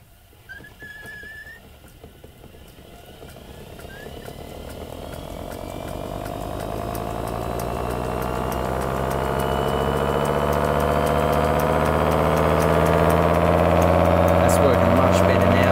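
A home-built mechanical siren with a modified rotor spins up, its wail rising steadily in pitch and growing louder over about fifteen seconds, with faint whistling at the start.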